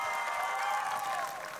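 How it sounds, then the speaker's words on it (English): Applause from a seated audience at an anniversary gala dinner, a steady, dense wash of clapping that holds for over a second before tapering slightly. "I think she deserves another round of applause"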